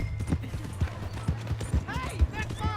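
Horse hooves clop in Red Dead Redemption 2, a rapid run of dull thuds under someone shouting, with other game sounds in the background.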